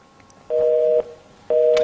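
A telephone busy signal after a dropped call during a TV talk show phone-in: two steady, loud tone bursts of about half a second each, separated by a short pause, standing alone.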